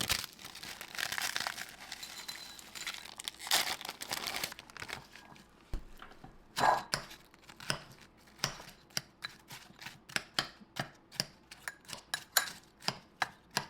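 Waffle cookies snapped and crumbled by hand into a small bowl, close and crisp: a rustling crinkle at first, then a run of sharp individual cracks and crunches coming faster toward the end.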